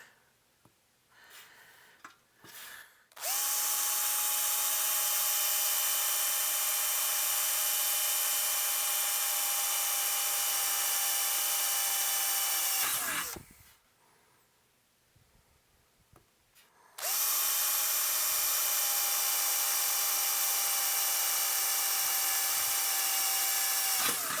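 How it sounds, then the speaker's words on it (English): A power drill whines loudly and steadily for about ten seconds drilling a pilot hole with a small bit in a tube amplifier chassis, stops, then starts again after a short pause, with faint handling noises between. "Drill our pilot hole."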